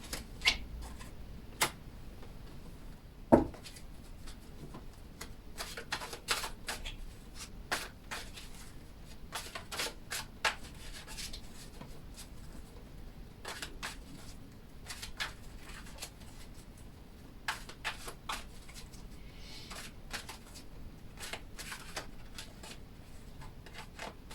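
Tarot cards being shuffled and drawn, soft continuous rubbing and riffling with scattered light ticks and slaps, close but quiet, with no voice.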